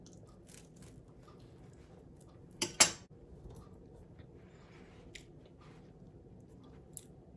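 One crisp bite into a pizza donut crunches close to the mic, followed by faint, sparse chewing in an otherwise quiet room.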